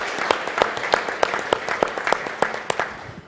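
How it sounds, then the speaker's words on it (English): Applause from the audience at an annual meeting and exhibition in San Francisco honoring Marcus's power plant accomplishment; a sparse, clearly countable patter of individual claps with sharp accents, fairly close, over a low background murmur. "Let's give Marcus a round of applause."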